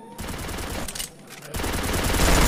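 Rapid automatic gunfire in a shooting video game comes in two loud bursts split by a short pause, the second burst longer and building in intensity.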